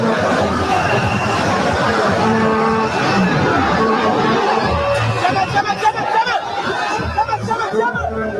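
A rally crowd at the CDC Million Man Rally fills the air with dense, steady babble and chatter. Many overlapping voices blend into a continuous hubbub with occasional louder swells.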